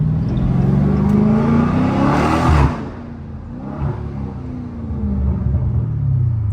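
Catless Dodge Challenger Scat Pack 392 V8 rumbling through stop-and-go city traffic, a deep steady exhaust drone that dips briefly as the car slows, then swells again as it pulls away, heard from inside the car.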